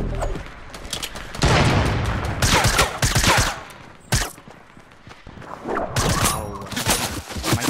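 Bursts of gunfire crackle in Fortnite, with loud volleys of rapid shots broken by short pauses and sharp single cracks, at times close and at times a little farther off.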